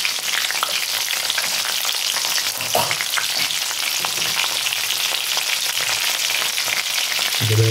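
Green chillies and black cumin fry in hot oil for a fish kasundi, a loud, dense, continuous sizzle close by, with a low thump near the end.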